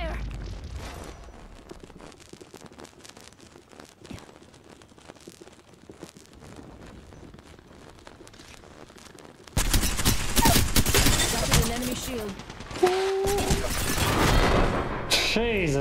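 Gunfire in the battle royale game Apex Legends, a quieter stretch of scattered shots giving way to loud sustained bursts of rapid fire near the end, with speech over it.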